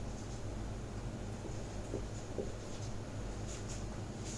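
Chalk or marker scratches out a number on a classroom board in a few short strokes, faint and close against a steady background hiss, with no talking.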